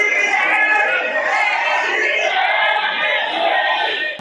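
Crowd of political supporters in Rockwell chanting in unison, a loud sustained mass of voices with a rhythmic swell, close and dense throughout the short burst.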